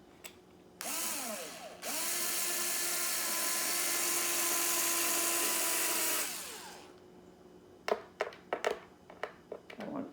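A small power drill screwing D-rings into a wooden picture frame: two whirring bursts, a short one then a long steady run, followed by a handful of sharp clicks and knocks from handling.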